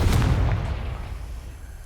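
A Confringo blast spell goes off in Hogwarts Legacy, a single loud booming burst at the start with a low rumbling tail that fades over about two seconds.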